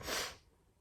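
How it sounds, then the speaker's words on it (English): A single short, breathy sneeze set off by pepper while cooking, close and fairly soft, followed by quiet breathing. "Okay, so I'm fixing to sneeze."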